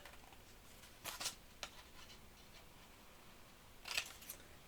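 Scissors snipping paper pieces for a pop-up card, two quick bursts of cuts separated by a pause, close and fairly quiet.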